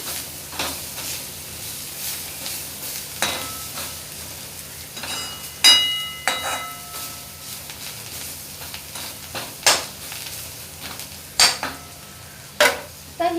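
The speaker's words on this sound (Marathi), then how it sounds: "थोडीशी चिरलेली कोथिंबीर आपण फोडणीला घालूया आणि थोडीशी आपण वरून घालूया परतून घेऊया" Chopped coriander is sautéed in tempering oil with asafoetida in a pan for a spinach dish, giving a soft underlying sizzle broken by sharp, irregular clinks and scrapes of a metal spoon against the pan, close by and without speech.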